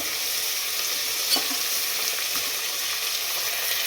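Sliced onions fry steadily in hot oil until golden for a pressure-cooker chicken biryani, giving a constant, close hiss with a few faint stirring clicks and no voices.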